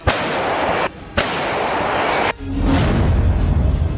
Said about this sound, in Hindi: रूस के सैनिकों ने दुश्मन के ठिकाने पर एक के बाद एक कई जोरदार धमाके किए